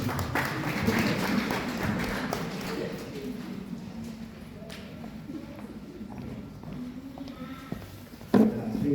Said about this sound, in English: I saw the parents were clapping hands for you